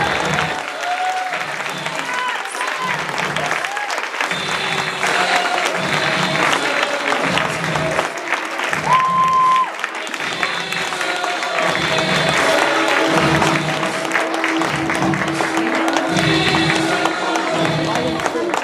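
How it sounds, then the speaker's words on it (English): An audience at a school student-of-the-month ceremony applauds continuously for nearly twenty seconds, a close, dense clapping crowd with a pulsing rhythm and faint cheering mixed in. "one last round of applause for our Student of the Month"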